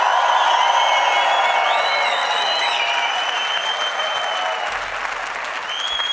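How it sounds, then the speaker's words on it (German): A live concert audience claps loudly and continuously to vote for the next song at a request show, a dense sustained applause with a few whistles and whoops over it. "Wer will das Lied Nummer 2 als nächstes kommt,"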